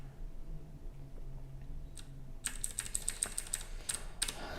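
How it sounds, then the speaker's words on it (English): A noisier, clackier-than-usual computer keyboard is typed on in a fast run of sharp keystrokes over the last two seconds, after a quiet stretch with a low background hum; no one speaks. "I do have my other keyboard that I'm using today, so it's going to be a bit noisier and clackier than usual."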